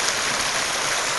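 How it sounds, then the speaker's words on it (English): A stream flowing beside an old settler's log cabin among fractured rock, a loud steady rushing wash of water heard close up with no talk. "So here comes your stream"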